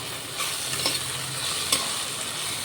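Dal frying in oil in a pressure cooker gives a continuous close sizzle with light crackles and a couple of small utensil taps, alone and steady.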